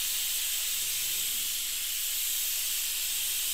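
A pressure cooker on a home kitchen stove releasing steam as a steady, loud, high hiss that runs on without a break, with no talking.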